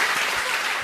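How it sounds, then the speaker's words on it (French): Audience applause at a French entertainment show, a steady, dense wash of clapping with no pauses for the short stretch. "Applaudissez pour lui."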